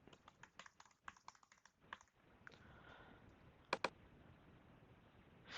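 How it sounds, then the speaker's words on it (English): Quiet typing on a computer keyboard while entering an Apple ID password, a quick run of soft key clicks followed by a pause and two sharper isolated keystrokes, all faint and close. "I am going to enter my password."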